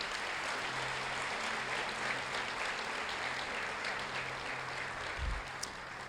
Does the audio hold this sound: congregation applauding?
yes